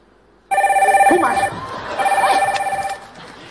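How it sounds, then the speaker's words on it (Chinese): A telephone rings loudly and close by in two trilling bursts with a short gap between them, over a faint murmur of people talking in a comedy sketch setting. "来电话了"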